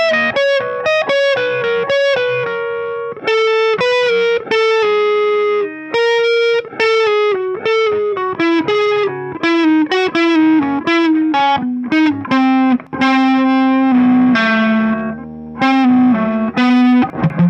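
Heavily distorted electric guitar plays a song's line note by note at a slow pace, the melody gradually stepping downward. It rings loud, close and alone.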